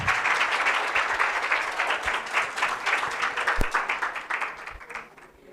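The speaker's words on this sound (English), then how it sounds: "Let's welcome our own Julia with a huge round of applause." Audience at a school TED-style talk applauds to welcome a speaker, steady dense clapping that carries on evenly before tapering off toward the end.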